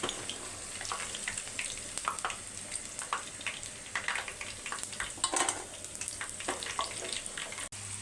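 Squid frying in a pan, a continuous close sizzle with scattered crackling pops and occasional stirring scrapes, steady throughout without speech.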